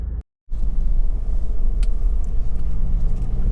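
A Honda CR-V 2.2 i-DTEC EX 4WD diesel with 67,041 miles runs with a steady low rumble that carries on almost unbroken, apart from one short dropout near the start.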